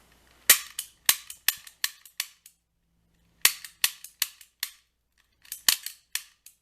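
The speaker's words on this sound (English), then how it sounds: "we just got the deadbolt open pretty quickly in a few snaps" A lock pick snap gun working a deadbolt, firing rapid bursts of sharp metallic snaps, several quick clicks per burst in three groups separated by short pauses, close and crisp.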